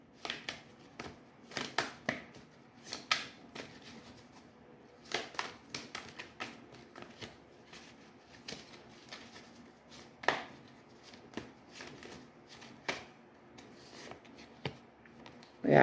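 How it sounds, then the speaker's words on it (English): Tarot cards being shuffled by hand, producing close, quiet riffling and flicking bursts with irregular taps and slaps of the deck, continuing steadily with no talking. "I'm going to pull a couple tarot cards"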